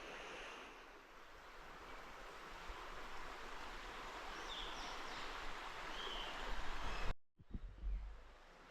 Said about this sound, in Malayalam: ആ വെള്ളം ഇങ്ങനെ പാലത്തിനടിയിൽ കൂടെ ഇങ്ങനെ ഒഴുകി വരുന്നുണ്ടോ.